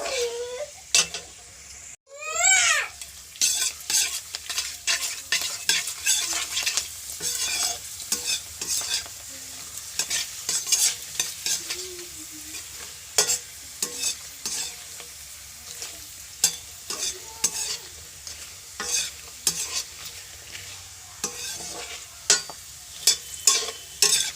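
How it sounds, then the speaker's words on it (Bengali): Potato chips frying in oil in a wok, with a steady close sizzle and frequent scraping clicks from stirring and turning throughout. "এখানে আমি এই যে চিপসগুলো ভেজে নিচ্ছি"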